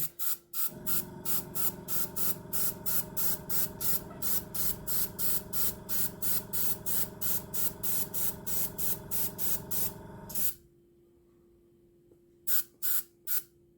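Spray paint hisses from an aerosol can in a long run of short, even bursts, regular and close, then a pause and two final quick sprays.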